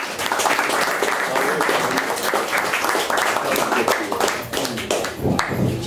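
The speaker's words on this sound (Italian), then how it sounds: "un applauso di tutta la famiglia" Audience applause fills a conference hall at a lecture on the Adriatic Sea and pre-Roman Italic civilizations, a steady dense clapping that holds for about six seconds with a brief dip near the end.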